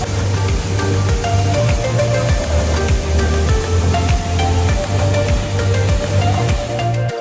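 Tiger Falls in Chakrata roars as a loud, steady broadband rush of falling water, dense and constant from start to finish, very close with no other sounds breaking through.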